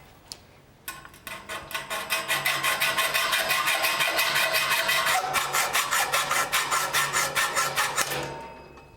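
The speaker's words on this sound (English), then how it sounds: "The first tool that I'm going to use is a hacksaw." Hacksaw cutting brass tubing for a foot rail, a steady back-and-forth rasp of even strokes lasting several seconds, close and clear, then stopping.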